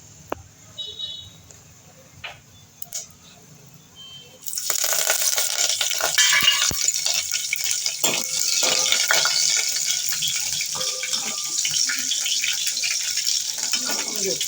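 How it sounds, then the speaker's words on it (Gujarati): Mustard seeds hit hot oil for crisp dal vada prep: a quiet start with faint clinks, then a sudden loud, continuous crackling sizzle that holds steady to the end, chillies and curry leaves going in. "રાઈ તતડી જાય પછી આપણે મરચાં અને લીમડો નાખશું"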